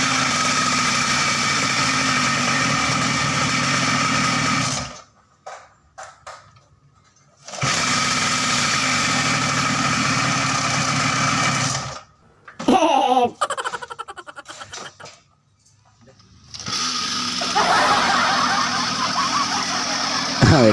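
Mini GP motorbike engine catching on a single pull start and idling with a high, buzzy small-engine drone, broken by two silent gaps and a stretch of clattering handling before the idle resumes.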